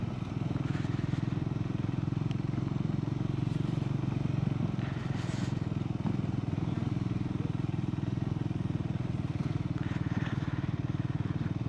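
Motorcycle fitted with a rear top box, ridden carefully off-road over red soil near a windmill garden in Devgad; a steady, loud engine drone runs unbroken throughout.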